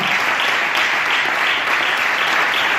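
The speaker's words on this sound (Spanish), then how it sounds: "¿Alguien da un aplauso al Señor en esta mañana?" A church congregation applauds during a Spanish-language sermon, steady dense clapping filling the room for about three seconds with no talking over it.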